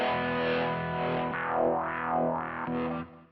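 Sustained distorted electric guitar chord through a Mooer GE-200 amp modeler, ringing out, with a slow sweeping modulation effect placed after the distortion washing over it before it fades.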